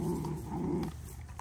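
A black dog growling low and steady at close range, a continuous rumble for most of the moment that fades out near the end, with no talking.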